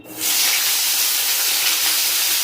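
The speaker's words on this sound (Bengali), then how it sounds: "তেল গরম হয়ে গেছে আমি দিয়ে দেবো বেগুন" Eggplant (brinjal) pieces hit hot oil and burst into a loud, sudden hissing sizzle that holds steady and close without any speech.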